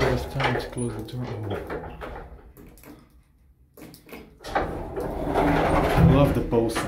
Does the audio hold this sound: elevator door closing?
yes